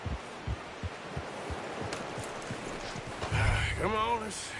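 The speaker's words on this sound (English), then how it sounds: "You should really tether that horse, Arthur." Horse hooves clop in an uneven rhythm at moderate distance in the video game Red Dead Redemption 2, followed by a voice speaking near the end.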